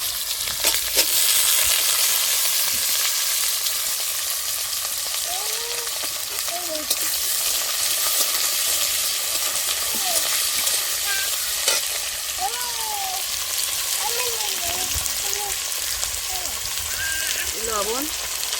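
Potatoes frying in a pan while cooking lote fish with bottle gourd, a dense steady sizzle and crackle filling the whole stretch, with occasional stirring clinks and faint bird calls in the background.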